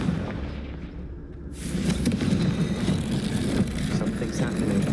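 A Confringo blasting spell erupts in the video game Hogwarts Legacy, a sudden loud burst swelling into a rumbling, roaring blast that carries on to the end.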